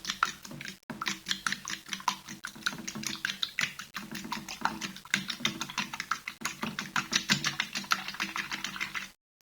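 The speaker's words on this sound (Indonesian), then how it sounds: "Telurnya aku pakai 4 ya. Aku kocok" Four eggs whisked in a bowl, a rapid, steady clicking and tapping rhythm of the whisk against the bowl, close and continuous for about nine seconds before stopping abruptly.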